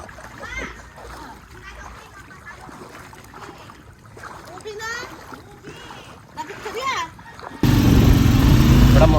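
During typhoon flooding in the Philippines, voices including a child chatter over a moving vehicle before a loud, close rush of splashing water takes over as it drives through flood water.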